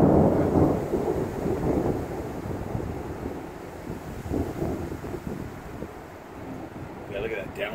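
Thunder rumbles through a sudden lightning storm, heavy low booms rolling and fading with wind buffeting the microphone and rain in the background, then a sharper crack near the end.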